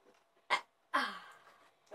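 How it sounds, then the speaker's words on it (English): After a drink of Vimto sour, a person lets out a close, short burp that trails off, following a sharp breathy sound, with faint voices around it. "I'm gonna burp"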